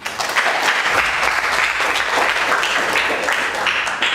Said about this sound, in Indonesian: kalau gitu tepuk tangan untuk Aji